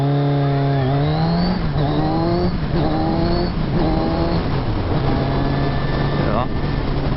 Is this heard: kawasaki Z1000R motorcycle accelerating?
yes